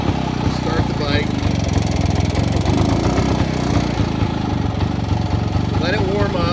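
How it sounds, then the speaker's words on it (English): A 1952 Zundapp motorcycle engine runs steadily and loudly up close as it warms up with the choke on, a continuous rhythmic putter throughout. "Start the bike."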